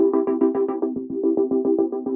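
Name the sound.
gated pulsating synth pad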